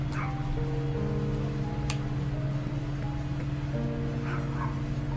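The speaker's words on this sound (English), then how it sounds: "What is this dog barking for?" A couple of short dog barks, one near the start and one near the end, sounding over a steady tonal hum and faint ticking in a room.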